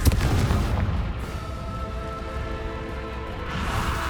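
A Confringo fire-blast spell in Hogwarts Legacy lands with a sharp booming burst at the start, then a low rumbling crackle fades out behind it.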